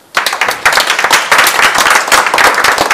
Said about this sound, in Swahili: Pigeni Yesu makofi.